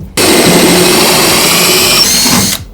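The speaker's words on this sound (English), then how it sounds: "Put a little bit of cutting oil on the drill bit." Power drill boring through metal with cutting oil on the bit, a loud, sustained whine that starts abruptly and cuts off after about two and a half seconds, no talking.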